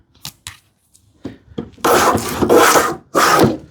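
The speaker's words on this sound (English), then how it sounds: "once I have a little bit of depth, I can take end-to-end shavings" Hand plane drawing end-to-end shavings along a board during a hand-tool woodworking build, heard as a few short near strokes followed by three loud, long rasping passes.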